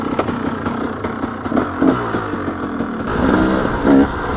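KTM 300 XC two-stroke dirt bike, a project build with a stock engine, being ridden; the motor revs up and down in repeated bursts with clattering mechanical noise, moderately close and without voices.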